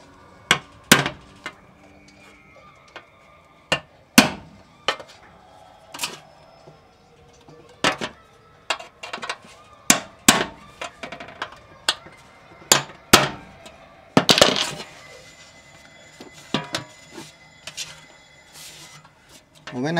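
Holes being made in an aluminum pot: a long irregular series of sharp, close metallic knocks and taps, sometimes in quick clusters, with quieter clatter between the strikes.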